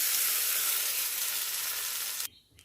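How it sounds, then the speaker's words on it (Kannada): Spices tempering in hot oil for a chutney give a loud, steady sizzle and crackle that runs close and continuous, then cuts off abruptly near the end. "ಒಂದು ಒಗ್ಗರಣೆ ಕೊಟ್ಬಿಡ."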